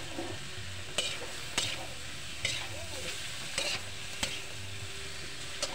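Bitter gourd (ampalaya) and other vegetables, no meat, stir-frying in a pan with a steady sizzle, punctuated by several sharp scraping stirs of a utensil against the pan at irregular intervals, close and clear.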